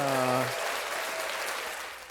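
A crowd cheering and applauding, played as a sound effect during a podcast album review, a steady broad roar lasting about two seconds that begins just as a brief voice ends.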